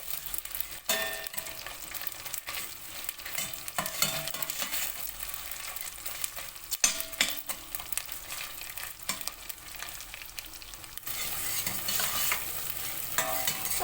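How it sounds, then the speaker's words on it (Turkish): Tomato paste being sautéed in a pan for a meatball stew, with a continuous soft sizzle under repeated scraping and stirring strokes of a utensil against the pan, no voices. "Salçayı iyice kavuracağım."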